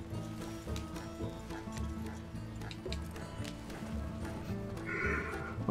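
Horse hooves clopping in the video game Red Dead Redemption II, a steady run of hoofbeats over layered game music and ambience, with a brief whinny-like sound near the end.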